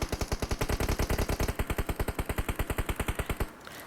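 Automatic gunfire in the mobile battle royale game PUBG Mobile, a long rapid burst of evenly spaced loud shots lasting about three and a half seconds before cutting off, with no talk.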